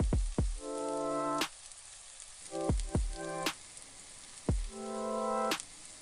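Potatoes and carrots frying in a pan until lightly browned, a soft, steady sizzle under several sharp knocks and ringing tonal notes.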